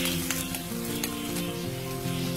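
Sliced onion and julienned capsicum hit a hot pan for chicken fajita pizza topping, giving a steady, loud sizzle with crackling spits throughout, no voices.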